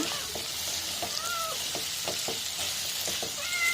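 Fresh curry leaves frying in hot oil in a pan while a chicken fry is made, giving a steady dense sizzle with scattered crackling pops and brief squeaky tones throughout, close and continuous.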